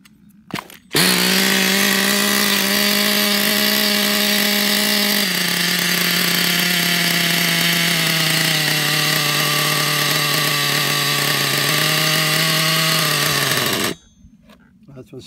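An XTM Terminator 2 nitro RC car engine fires up and screams at a steady, loud, high buzz for about thirteen seconds, its pitch shifting slightly as the throttle changes, then cuts off abruptly.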